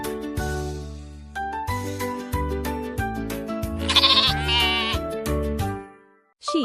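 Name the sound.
sheep bleating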